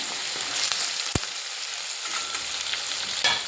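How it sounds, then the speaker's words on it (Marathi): Curry leaves frying in hot oil in a pan, a steady close sizzle and crackle with one sharp pop partway through, and no voices. "त्याला सुद्धा बारीक व्यवस्थित भाजून घ्यायचं आहे, तेलामध्ये फ्राय करून घ्यायचं आहे"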